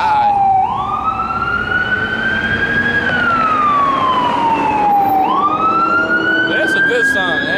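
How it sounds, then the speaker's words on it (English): Ambulance sirens wail loud and close in slow rising and falling sweeps, with a second siren starting partway through over steady traffic rumble. "Goddamn ambulances, man."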